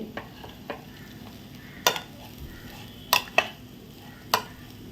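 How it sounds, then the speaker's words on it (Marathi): A spoon stirs spiced masala rice with chilli powder and salt in a pot, making a few sharp scraping knocks against the metal over a faint background sizzle, with no talking. "हे सुद्धा मी आता ढवळून घेते"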